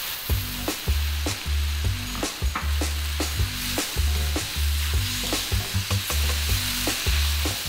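Chilli chicken with ginger and capsicum searing in a wok, a loud steady sizzle broken by rhythmic scraping and tossing strokes of a spatula, close and continuous with no voices.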